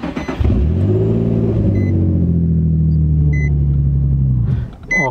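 A Nissan 350Z engine cranks and catches, then settles into a steady, loud idle rumble for several seconds before cutting out abruptly as the car stalls.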